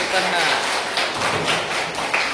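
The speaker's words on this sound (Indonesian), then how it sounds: "Tepuk tangan semuanya, tepuk tangan." Junior high school students clapping hands in a classroom, scattered uneven claps and taps mixed with chatter and voices throughout.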